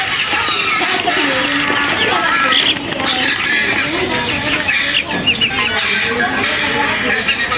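A flock of around 500 chickens on a small village poultry farm clucks and calls continuously, a busy overlapping chorus of hens close by.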